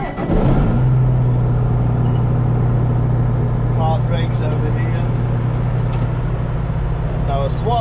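Heston 9260 self-propelled hydrostatic swather with a rotary head cranks and catches, its engine settling into a loud, steady idle that runs close by throughout.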